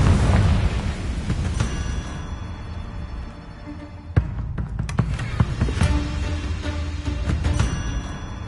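Confringo fire spell explosion in a Harry Potter video game, a dense roaring burst that decays into a rumbling hum, followed by sharp cracks and crackling pops; no talk over it.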